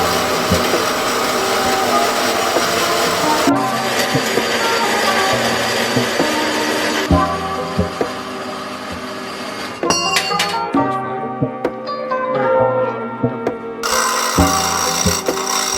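A loud power tool cuts and notches metal tubes for a homemade skate rail, running continuously with shifting pitch and load and a few sharp clanks between passes.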